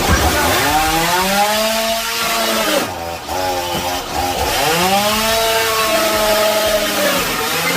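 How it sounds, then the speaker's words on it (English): A chainsaw tears through a flat screen TV, a loud, close, continuous whine with pitch swells as the blade bites, briefly dropping and rising again mid-cut, with no talking. "That's a chainsaw going through a flat screen TV."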